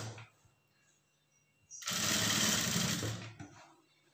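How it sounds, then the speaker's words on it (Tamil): Sewing machine stitching a folded blouse lining at a side joint, a loud steady whirring run of close rapid stitches lasting about a second and a half after quiet handling sounds. "அப்படியே தையல் போட்டுக்கங்க."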